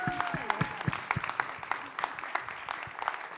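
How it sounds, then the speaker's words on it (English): A crowd applauding with steady clapping throughout, while a voice speaks briefly underneath near the start. "give them another round of applause"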